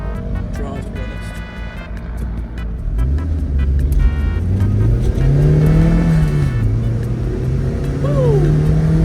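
A 2006 Mazda MX-5 NC accelerating hard, heard from inside the car: the engine note climbs through the revs, drops briefly at a gear change, then pulls up again, loud and close.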